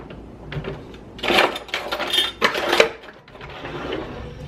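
Someone rummages through kitchen drawers looking for a ladle, making close bursts of clattering utensils and metal cutlery and knocking drawer sounds, loud, irregular clanks and rattles, with no talking.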